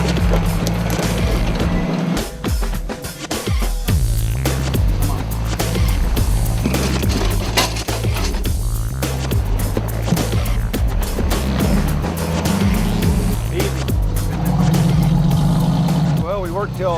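A 4x4 off-road vehicle engine revs and labors continuously as it climbs an obstacle on a four-wheeling trail, staying loud and close from start to finish with the pitch rising and falling.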